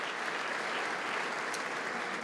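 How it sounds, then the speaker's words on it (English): Steady audience applause fills a hall at a junior football club presentation night, a dense continuous patter of many hands clapping at moderate level with no talk over it. "Ladies and gentlemen, big round of applause for women's football."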